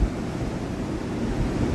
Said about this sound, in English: compressor kicks on, blows cold.